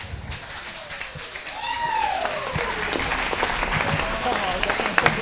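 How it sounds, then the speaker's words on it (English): Wedding guests applaud after a toast at a wedding reception, sustained clapping that builds in loudness partway through, while a voice talks over it. "A round of applause for Paul"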